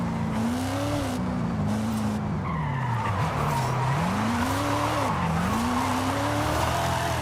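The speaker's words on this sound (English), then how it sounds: "These Silverados, man, they can really drift in this game." A Chevrolet Silverado truck drifting in Forza Horizon 5, tires squealing continuously with rising and falling pitch over a steady engine roar, loud and close throughout with no talk.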